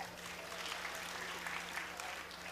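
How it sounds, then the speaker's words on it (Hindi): Applause from an audience at a Hindi religious discourse, a steady dense patter of many hands clapping throughout at moderate level. "अब आपने ताली तो बजा दी है"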